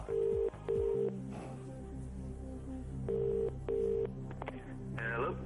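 Telephone dialing tones on a quiz show, Who Wants To Be A Millionaire, sound as two short pairs of steady beeps separated by a quiet line hiss, with a faint ringing tone near the end.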